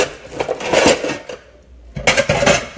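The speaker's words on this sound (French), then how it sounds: "Je fais la vaisselle, je vais faire comment?" Dishes and cutlery clatter close by during dishwashing, two bursts of clinking plates and utensils separated by a short quiet pause, with no talking.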